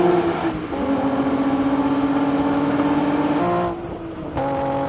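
A Nissan Z car races past during a drag race, its engine note holding a steady harmonic whine that rises and then drops sharply as it passes close by, followed by further loud engine noise.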